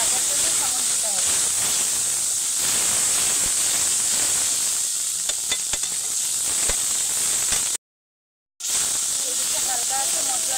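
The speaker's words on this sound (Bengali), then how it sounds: "হালকা আছে মশলাটা ভাজার জন্য সময় দিতে হবে" Ground spice paste frying in oil in a wok gives a loud, continuous sizzling hiss with scattered crackles, broken by a short silent gap near the end.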